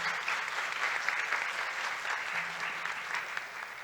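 Steady applause from an audience at a webinar event at FAU-Mackenzie, a dense wash of clapping holding level for the whole stretch with no talk over it.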